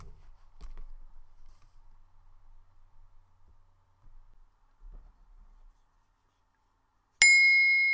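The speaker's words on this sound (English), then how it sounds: "continue to sit with this image of the mountain, embodying its rootedness, stillness, and majesty, until you hear the sound of the bell." A meditation bell rings once near the end of a quiet guided mindfulness session, a single bright struck tone with a sustained ringing decay after several seconds of near silence.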